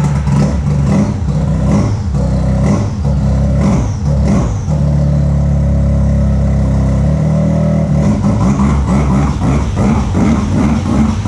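Polaris FST Turbo sled race car engine revving in a field, loud and continuous with repeated throttle blips and surging revs, close to the listener.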